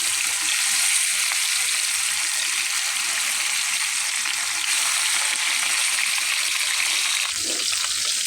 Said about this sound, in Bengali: এদিকে আমার মাছটা ভাজা হচ্ছে।